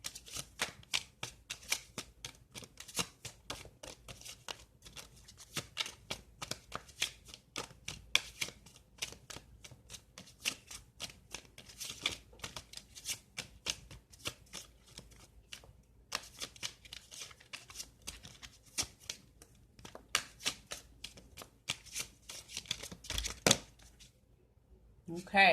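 Gypsy tarot cards shuffled over and over in a steady, close stream of rapid riffling flicks, fairly soft, ending with a short pause and a final snap; no talking.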